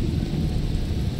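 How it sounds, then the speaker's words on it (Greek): Torrential downpour with a deep thunder rumble, a dense, steady roar of heavy rain close by and loud throughout, with no voices. "Αυτό δεν είναι βροχή, λέει, είναι κατακλυσμός."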